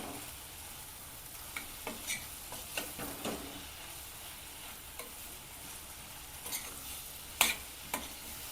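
Raw banana bhaji stirred and frying in a pan, a soft continuous sizzle broken by scattered spatula scrapes and clinks, one louder knock near the end.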